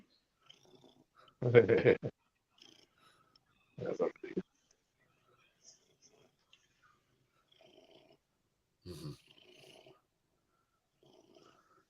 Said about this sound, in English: I can hear it purring